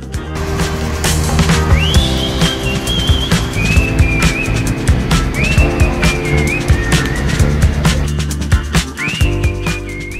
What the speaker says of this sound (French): Chaque véhicule est placé par le personnel de bord selon un ordre bien précis.